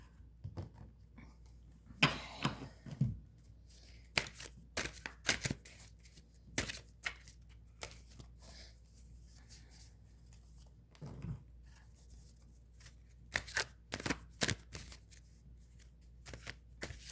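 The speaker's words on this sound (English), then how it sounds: "So I'm just going to shuffle your cards," Two decks of tarot cards being shuffled by hand, a steady run of quick riffling and slapping bursts spread through the stretch, close and fairly quiet with no talking.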